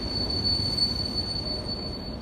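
A train pulls away at Warszawa Śródmieście station, its wheels giving a sustained high metallic squeal over a steady rolling rumble, loud and close, with no voices.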